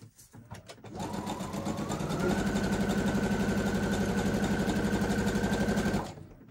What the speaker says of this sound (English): let me just whiz a quick stitch around this because I'll keep that